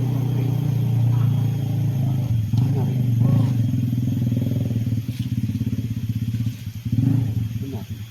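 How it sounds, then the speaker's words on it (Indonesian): A motorcycle engine idles and revs close by, chugging steadily with brief throttle surges, while people talk over it. "Ini suara motor"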